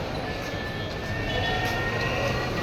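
A train passing a level crossing in the rain, a loud steady rumble and roar of wagons rolling by nearby, with no talk over it.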